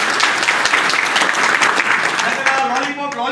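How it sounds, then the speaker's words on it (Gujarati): An audience at a public community meeting breaks into loud, sustained applause, dense clapping that holds for about three seconds and then thins slightly. "એટલે પહેલા તો સૌથી બધા એક જોરદાર તાળી પડી ગયો."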